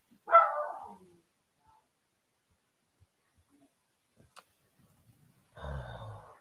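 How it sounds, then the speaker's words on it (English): A dog gives a short bark, then after a long pause a second bark or yip, both fairly close in an otherwise quiet room. "Please stop barking, darling."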